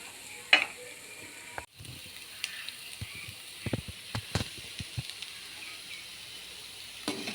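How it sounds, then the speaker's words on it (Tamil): Lentil crumble (paruppu usili) with cluster beans is stirred in a pan, giving a soft, quiet sizzle with scattered scraping taps of the spoon at irregular intervals, close and alone. "நல்லா தான் கொஞ்சம் ட்ரையாக வதக்கணும் இன்னும் கொஞ்சம் வதக்கணும்"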